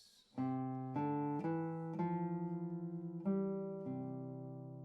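Low plucked notes on a nylon-string classical guitar form the slow bass line of Sor's Etude Op. 60 No. 2, each note sustaining and overlapping, close and steady with no voices.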